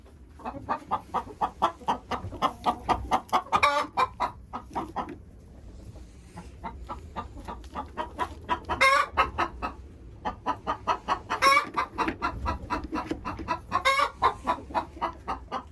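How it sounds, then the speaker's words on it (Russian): A hen clucks close by in rapid, rhythmic runs, broken by a few louder squawks, with a short quiet break midway. "И тут сидит курочка, несется."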